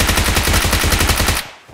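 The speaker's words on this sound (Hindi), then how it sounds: "एक गन है M16A4, उसमें भी 36 गोलियां और खत्म।" M16A4 assault rifle fired in PUBG Mobile, a rapid sustained automatic burst of evenly spaced loud shots lasting over a second, then cutting off abruptly.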